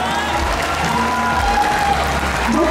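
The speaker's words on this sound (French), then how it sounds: "Et pour cette évolution, on va l'applaudir très fort" An audience applauding, a steady wash of clapping hands that holds at a strong level throughout.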